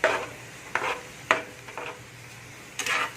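Egg frying in a pan for Bengali-style noodles, a metal utensil stirring and scraping in a few short separate strokes over a faint low sizzle.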